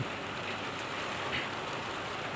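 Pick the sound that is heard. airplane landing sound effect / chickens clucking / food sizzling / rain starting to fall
rain starting to fall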